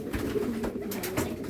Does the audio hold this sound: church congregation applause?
no